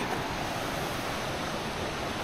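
A river flows steadily beside a rocky, root-strewn hiking path in Knoydart, a continuous broadband rush of water at close range with no voices over it.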